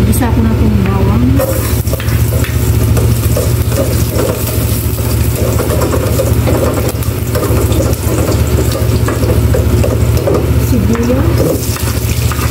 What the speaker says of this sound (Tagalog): Maglagay na ako ng cooking oil. Igisa ko na itong bawang.